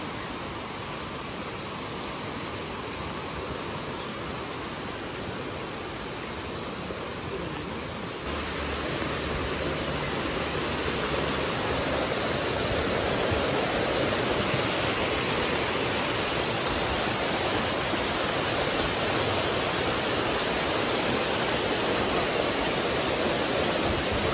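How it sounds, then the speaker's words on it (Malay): Fast-flowing river water rushing at Ulu Yam, a loud, steady broadband roar that swells a little louder partway through and continues without pause. "Deras juga air."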